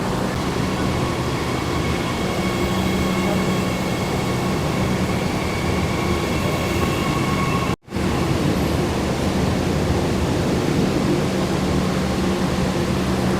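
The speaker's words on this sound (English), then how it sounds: "the doors are closing and it's going to pull out of the station very shortly" A KAI commuter line train pulls out of Solo station with a loud, steady rumble and broadband roar that continues for the whole stretch and is broken only by one brief dropout.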